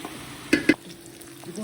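Chopped onions are stirred in a pan over high heat, with two sharp scraping strokes of the spoon standing out briefly above a low, steady sizzle.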